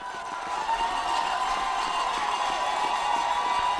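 Football stadium crowd at a Division III playoff game between Saint John's and UW-River Falls, a steady, distant roar of cheering under a fairly quiet, continuous wash.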